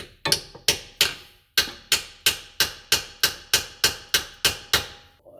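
A hammer repeatedly striking the differential fill plug on a 2016 Subaru Impreza, about fourteen sharp, loud metallic blows in a steady rhythm with a brief pause after the first few, close up and ringing.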